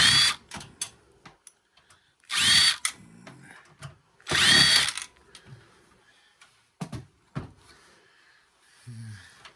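Power drill removing screws from a scrap computer case: three loud bursts of high whine, each a second or so long, separated by clinks, handling noise and quieter pauses.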